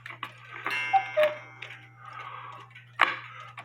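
A cuckoo clock ticks close by in a quiet room, giving a run of sharp, irregular clicks and taps over a faint steady hum, with no voices.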